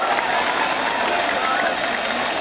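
Loud, dense applause from a large crowd at a Deen Bachao Desh Bachao rally, a steady unbroken wash of clapping held for the whole stretch with no pauses.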